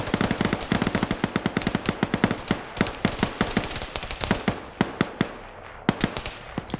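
Rapid, close gunfire from an SVD marksman rifle in a multiplayer video game, a dense run of sharp shots in quick bursts with brief gaps between them.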